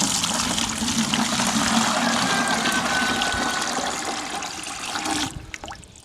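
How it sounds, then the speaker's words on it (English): A gallon of water is dumped into a duck water park, giving a steady, loud rushing pour for about five seconds that cuts off abruptly, followed by brief trickles and drips. "I'm just dumping a gallon of water in right now, and we're just gonna see what happens."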